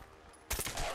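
A single sharp gunshot from a video game, cracking loudly halfway through after a quiet stretch, followed by a short ringing tail.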